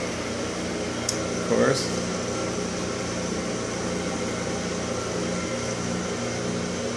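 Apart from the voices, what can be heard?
blower cooling a 7651 vacuum tube inside a chimney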